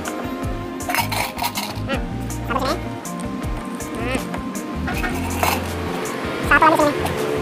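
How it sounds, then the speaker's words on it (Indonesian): Bolts being fitted onto the spin-dryer motor of a twin-tub washing machine during a motor replacement, with repeated metallic clinks and rattles of parts and tools close by, running under steady talk. "Habis itu pasang dua baut."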